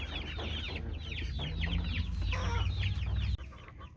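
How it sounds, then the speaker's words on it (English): Young chickens clucking and peeping in a new fenced enclosure, a busy chorus of short repeated chirps close by over a low rumble, no talk. "I think the chicks like their new home."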